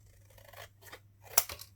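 Scissors roughly cut paper for a vintage journal, giving a few quick crisp snips and crunches up close, with a sharp final snip.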